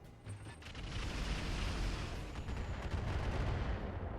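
Dense, continuous barrage of rapid booming impacts and explosions from a missile-heavy battle in the RogueTech mod of the BattleTech mech video game, loud and sustained with no speech.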